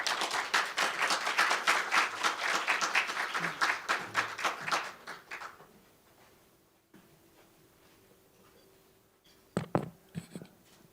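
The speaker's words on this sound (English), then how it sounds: "So please welcome him with a big round of applause." Conference audience applauding to welcome the KIEP president at the KIEP-IMF Joint Conference: dense clapping for about five seconds that thins and fades into room quiet, followed by a few faint thumps near the end.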